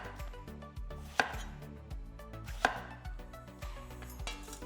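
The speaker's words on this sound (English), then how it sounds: "I'm using a roll cut here because it results in evenly sized pieces" A knife roll-cutting ingredients into evenly sized pieces on a cutting board for a salty fish recipe: steady close knife chops at a brisk rhythm, with two sharper, louder strikes among them and no talking.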